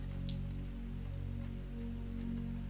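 Heavy rain falls steadily and evenly throughout, a continuous close wash of drops on a surface over a low, constant rumble, with no voices.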